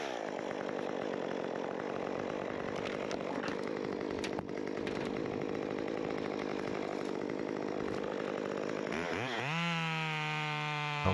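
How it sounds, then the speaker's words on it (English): A chainsaw roars steadily at close range while cutting wood during tree climbing, then revs up and down in rising and falling whines near the end. "I let this chainsaw go there, and the chainsaw liner does the rest for me"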